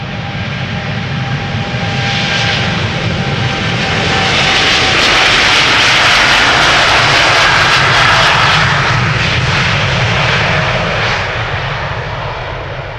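A KLM jet airliner departing Amsterdam Schiphol roars loudly and close, building to a broad, powerful engine rush in the middle and easing off, with no voices.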